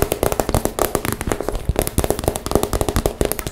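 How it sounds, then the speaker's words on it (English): A crinkly plastic shopping bag is handled up close, giving dense, loud crackling bursts that come in quick, uneven clusters with brief pauses, alone with no voice. "I love the sound of these kinds of bags"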